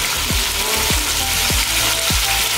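Onions frying in a pan for chicken biryani give off a loud, steady, dense sizzle up close, broken by four evenly spaced low knocks.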